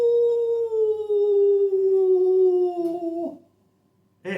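Female dogs give one long, sustained, slowly falling howl close to the microphone, which breaks off into a brief silence before a short yelp at the end.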